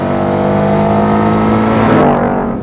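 A 2019 Ford Mustang GT PP2 V8 engine revving on a race track, a loud, close, sustained roar holding steady pitch before rising briefly and then cutting off abruptly.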